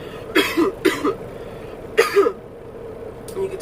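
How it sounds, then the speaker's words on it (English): Several harsh, chesty coughs from a person with bronchitis come in two clusters, close and loud, followed by a softer throat-clearing sound. "you can tell by the cough, I have bronchitis"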